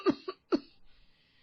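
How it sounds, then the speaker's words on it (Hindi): Two short coughs in quick succession, fairly close, followed by a brief rasp and quiet. "अरे खांसती रहेंगी क्या"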